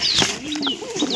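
A pigeon in a breeding box coos and calls close by in a short, clear burst, with soft chirping tones layered over the bird's voice.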